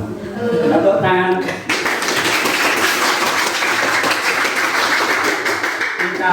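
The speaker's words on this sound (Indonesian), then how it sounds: "Tepuk tangan" Dense, steady classroom applause from a group of students, sustained for several seconds right after a voice speaks briefly at the start.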